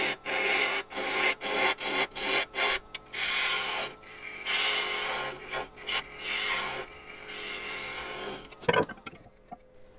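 Wood on a lathe, turning a small live-edge succulent pot with a confined opening, makes a rhythmic scraping and rasping with repeated short bursts, close and fairly loud, then a brief sharper knock near the end.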